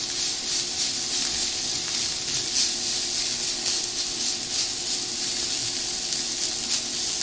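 Bacon frying in a pan gives a steady, close sizzle with bright crackling hiss that holds constant throughout, with no talking over it.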